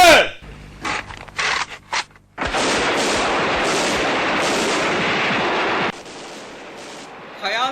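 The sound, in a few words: gunfire after an order to fire in a drama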